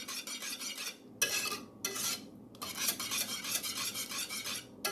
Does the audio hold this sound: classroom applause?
no